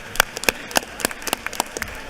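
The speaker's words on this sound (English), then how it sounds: "Please give him a round of applause." Sparse, scattered hand claps from members in a legislative chamber during a session, a few distinct claps spread unevenly across about two seconds, moderately close, with no talk over them.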